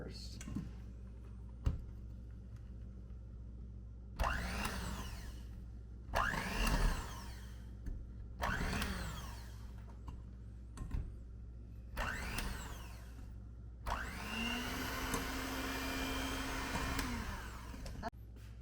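Stand mixer beating cookie dough with flour and salt, running in several short loud bursts and then one longer steady whir, with quieter room noise and faint handling between bursts.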